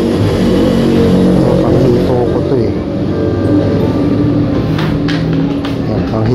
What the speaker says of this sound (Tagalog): Mga tricycle yan.